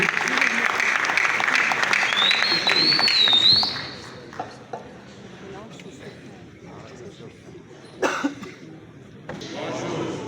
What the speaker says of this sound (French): Un applaudissement pour lui